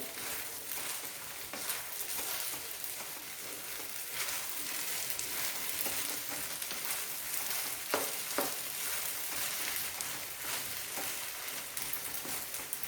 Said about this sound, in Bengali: এবার ঘিয়ের সঙ্গে পুরো পোলাওটাকে ভালো করে মিশিয়ে দিতে হবে।